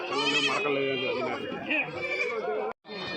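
Goats and kids bleat loudly and repeatedly at the Galiveedu sheep and goat market, overlapping cries close by amid crowd chatter and voices.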